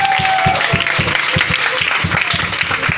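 Church congregation applauding the Lord during a French-language service, a dense rhythmic wash of clapping with steady beats and a broad crowd roar throughout.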